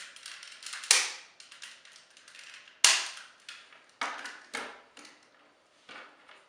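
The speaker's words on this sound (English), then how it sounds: "then you can bring the wings forward like so and snap them back down into position." Plastic wings on a Takara Legends Sixshot toy robot snap into position, giving a series of sharp close clicks, two louder snaps among several lighter taps with brief handling noise between.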